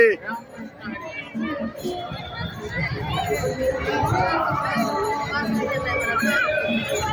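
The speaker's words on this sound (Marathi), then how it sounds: "पुणे सोलापूर हायवे रोड पर्यंत नागरिकांची दर्शनासाठी गर्दी रांग लागलेली आहे" A crowd of devotees queues for darshan of the Sant Tukaram Maharaj palkhi near the Pune–Solapur highway in Yavat, a busy murmur of many voices and chatter rising and spreading, with a nearby person talking over it.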